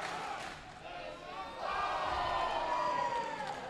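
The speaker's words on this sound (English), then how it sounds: "These people here cheering for these guys, chanting, this is awesome" A wrestling crowd at an Innovate Wrestling event cheers and chants in a steady, distant roar that swells in the second half, under commentators talking.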